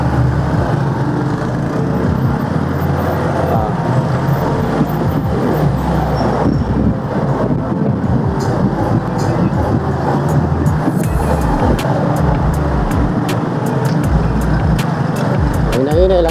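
Steady traffic on the Buhangin bypass road, a continuous loud rumble of cars and other vehicles passing close by, with a person talking over the noise throughout.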